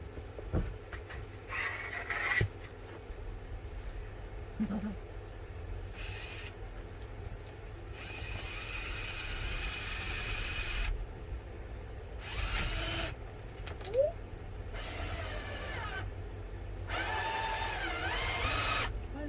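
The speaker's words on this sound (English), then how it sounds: "I don't know if these screws will drill straight into metal actually." Intermittent high, grinding bursts of a drill driving screws into sheet metal on a minibus campervan conversion, several separate runs of a few seconds each over a steady low background hum.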